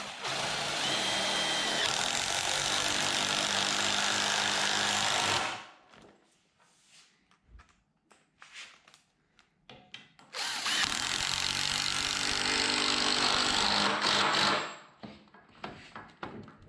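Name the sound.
power drill screwing pull-up bar brackets on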